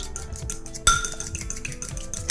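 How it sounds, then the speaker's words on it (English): Butter is beaten in a bowl while pure maple syrup streams in, giving close, rapid clinking and tapping of a utensil against the bowl that swells sharply partway through; no one speaks. "I'm just going to beat the butter and stream in my syrup"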